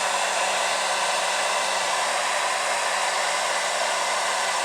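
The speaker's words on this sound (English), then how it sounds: "I run my hair dryer over it a little bit and press down" A hair dryer blows steadily at close range over a glued-down lace front wig, a continuous loud whooshing hum with no talking.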